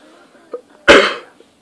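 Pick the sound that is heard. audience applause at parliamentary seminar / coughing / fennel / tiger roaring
coughing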